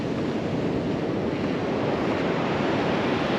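Ocean surf crashing onto a wilderness beach, a steady loud roar of breaking waves with wind rush, no voices.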